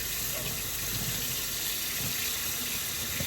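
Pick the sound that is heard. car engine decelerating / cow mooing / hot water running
hot water running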